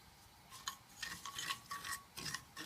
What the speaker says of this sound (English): We're just going to let these heat up a little bit, and I will stir them around